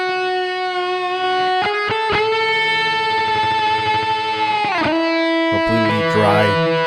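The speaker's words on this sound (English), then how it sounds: "we have some delay and reverb" A sustained electric guitar chord through a plugin amp with delay and reverb rings out with a long echoing tail, then a few picked notes follow, washed in repeating echoes.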